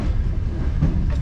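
A Soviet-era passenger train rolls along the rails between Moldova and Romania, giving a steady, loud low rumble with faint rhythmic clatter heard from inside the carriage.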